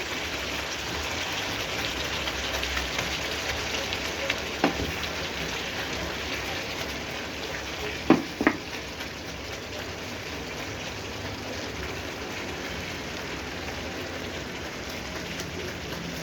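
Onions hit a hot frying pan and sizzle steadily, a soft continuous hiss and crackle with a couple of brief louder pops, moderately faint and without talk.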